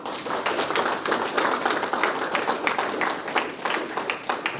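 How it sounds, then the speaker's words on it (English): A boxing press conference audience gives a round of applause, steady overlapping claps at moderate distance with a lively, fairly even rhythm throughout. "Let's give Pat Leonard a round of applause."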